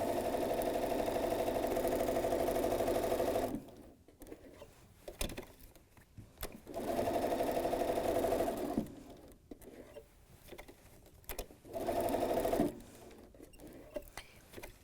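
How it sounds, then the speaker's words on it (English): A sewing machine stitching around a pillowcase, with three steady runs of motor hum and needle chatter broken by pauses for pivoting at the corners, where light handling noises come through. "I'm going to sew all the way around, stopping and pivoting at my corners."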